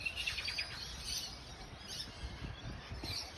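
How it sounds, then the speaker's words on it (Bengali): Birds call and chirp from the trees of a small local park with a children's play area in Australia, high twittering notes repeating steadily over a low background rumble. "পাখির ডাকাডাকি শোনা যায়"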